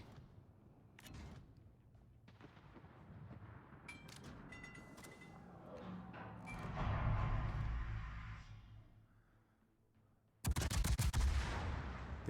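Naval gun salvo in the World of Warships game, booming gunfire and rumbling blasts swelling through the middle and then a sudden loud burst near the end, with no talking.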